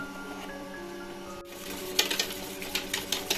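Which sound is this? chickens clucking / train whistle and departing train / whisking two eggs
whisking two eggs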